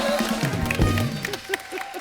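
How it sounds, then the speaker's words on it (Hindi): Studio audience at The Kapil Sharma Show breaks into applause and cheers under a loud musical sting, with dense, close clapping for about two seconds. "एक बार जोरदार तालियां भाई साहब के लिए"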